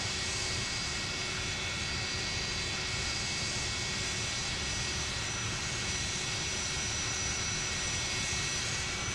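Mad Dog X aircraft engines run steadily while the plane taxis, a continuous loud, broadband roar with a faint high whine, unbroken for the whole stretch with no voices.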